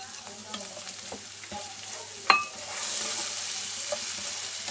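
Tomato paste and dry spices frying in a pan for masala fried egg shakshuka. Close stirring scrapes and a sharp metallic clink give way to a louder, steady sizzle after the ingredients go in.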